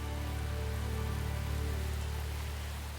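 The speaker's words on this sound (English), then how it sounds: "It is, at the moment, just raining a little bit." Light rain falling at Matlock Bath in the Peak District, beside the River Derwent: a steady, even hiss of drops close by, continuous and moderately loud with no talk.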